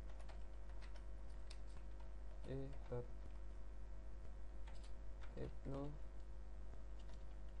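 Keys clatter on a computer keyboard in soft, quick bursts of taps against a low steady hum, while someone speaks quietly throughout.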